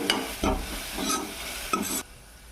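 Turmeric stirred into a hot frying pan for restaurant-style dal, with steady sizzling and several close, distinct scraping stir strokes, no talking.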